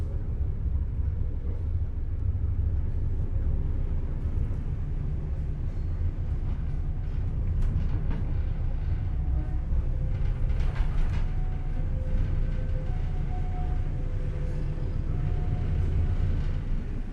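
Inside a business-class carriage of the Logawa train, departing Ngawi station on the Jember to Purwokerto route, a constant low rumble and rattle of the moving coach carries on steadily, with no voices.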